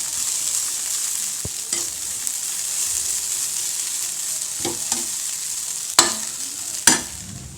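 Banana flower poriyal with coconut, stirred in a pan: a constant soft sizzle with scattered scrapes and clinks of the spoon against the pan, ending in two sharper knocks.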